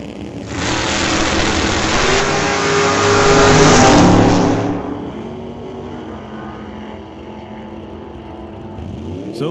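Two drag race cars, a 1972 Duster and a 1967 Chevy II, roar at an old-time drag event. The loud, close engine wail builds to a peak, then fades as the cars pull away.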